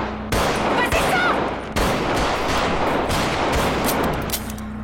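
Gunfire in a dramatized police shootout: loud, close bursts of shots crack in quick succession over several seconds, with a brief gap before more rapid firing.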